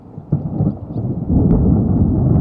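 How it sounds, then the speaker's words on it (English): Thunderstorm with torrential rain, a loud, dense roar of heavy rainfall overlaid by deep rumbling thunder that swells and holds steady, close and without voices. "The storms also dropped torrential rain and hail upwards of golf ball size for a short time."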